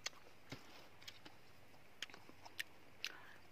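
Crunchy bites and chewing of an apple tossed in chili salt, a handful of sharp crisp crackles spaced out over a few seconds, close and quiet with no talking.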